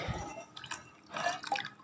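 Tea-powder water drips and splashes as it is poured for garden plants, short wet bursts heard close and alone.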